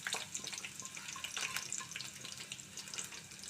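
Onion and four green chillies frying in oil for a brinjal curry, a steady close hiss and crackle with bright spitting bursts running throughout, no talking.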